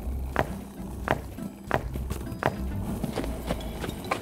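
Four horses walking in a line hauling loads, their hooves clip-clopping in a steady, evenly spaced rhythm, moderately close over a low rumbling background.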